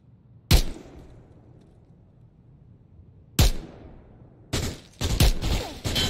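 Gunfire in the video game State of Anarchy: two sharp isolated shots a few seconds apart, then a quick burst of several rapid shots, loud against a quiet background with no talk.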